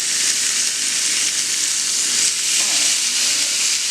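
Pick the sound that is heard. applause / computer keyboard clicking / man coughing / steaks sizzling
steaks sizzling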